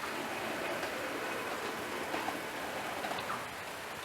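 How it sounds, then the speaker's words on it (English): Steady rain falling outdoors, a dense even hiss with scattered drop patters, fairly quiet and continuous, easing slightly toward the end, with no voices. "it started raining here"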